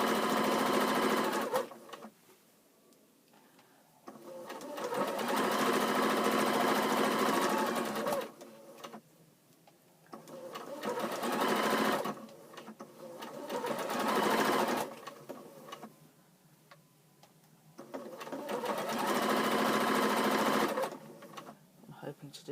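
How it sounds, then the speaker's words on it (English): A sewing machine stitches close to the fabric edge to turn a raw edge in, running in several long bursts of steady whirring with short pauses between them, loud and close. "Just sewing close to the edge, and it's just to turn that raw edge in."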